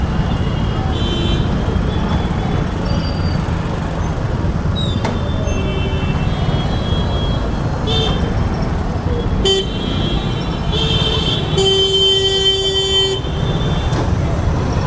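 Busy road traffic in Bhiwandi, a dense, steady roar of cars, buses and rickshaws close by, with scattered horn toots and a longer honk near the end, and a voice talking over the din.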